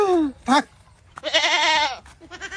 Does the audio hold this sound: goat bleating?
yes